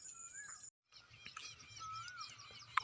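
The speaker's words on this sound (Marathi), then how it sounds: "तर तुम्हाला पक्ष्यांचा आवाज येत असेल बघा" Faint bird calls with thin whistles and chirps drift in from a distance over quiet outdoor ambience, interrupted by a brief gap of silence.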